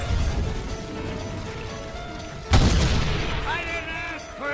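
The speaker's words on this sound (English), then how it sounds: "This anime has tons and tons of explosions" Anime explosions from a harem ecchi series: a rumbling battle soundscape with a sudden loud blast midway, followed by a fading roar and bright ringing tones.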